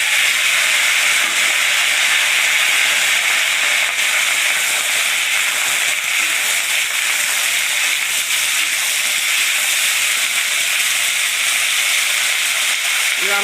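Dried red chillies tipped into a hot oiled pan while making a tok fol (sour fruit) chutney give off a loud, steady sizzling hiss that holds evenly from start to finish.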